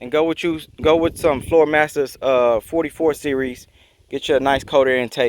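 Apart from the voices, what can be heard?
No everyday noises stand out.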